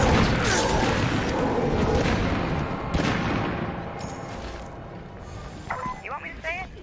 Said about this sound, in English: Wow, like concentrated fire coming in.